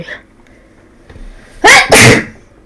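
Two loud, close sneezes come in quick succession, sharp bursts breaking out of a quiet room with faint voices beforehand.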